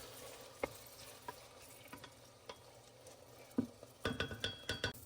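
Onions and chillies fry in a pan for a Telangana-style mutton curry, with a quiet background sizzle broken by sparse stirring clacks and a busier burst of scraping near the end.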